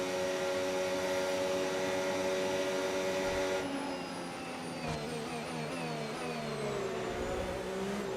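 A racing car engine in a racing video game drones at a steady high pitch and then shifts, with tones sweeping up and down as the revs change. It sounds loud and continuous, with no voices.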